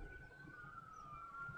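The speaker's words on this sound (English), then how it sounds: "Excuse the sirens outside." A distant siren outside holds a faint, steady wailing tone in the background, with low rumbling ambient noise beneath it.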